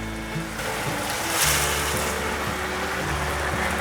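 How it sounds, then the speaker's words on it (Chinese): White radish and pineapple are stir-fried with vegan dried fish in a pan, tossed gently. A steady, loud broadband hiss runs throughout, swelling slightly midway, with no voices. "轻轻的翻炒。"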